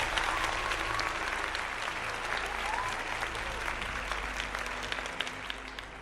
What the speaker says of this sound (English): Thank you for the applause.